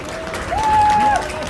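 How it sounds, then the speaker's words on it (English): An outdoor crowd at the Palm Jumeirah in Dubai cheers and claps for Austria in a brief, busy wash of noise, with a sustained whistle or voice tone rising above it in the middle. "a big round of applause for Austria"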